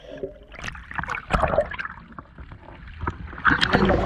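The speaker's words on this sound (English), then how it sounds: "It's going to be awkward because it's very choppy." Choppy sea water sloshes and splashes at the surface off Guernsey in the Channel Islands after a scuba dive, close irregular slaps and gurgles in uneven bursts.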